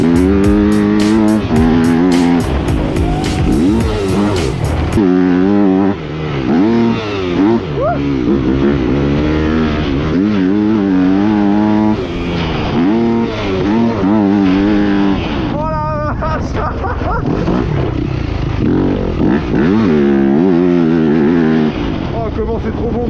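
Yamaha YZF 250 motorcycle ridden and revved, engine pitch rising and falling repeatedly with loud close revs, with someone talking over the engine much of the time.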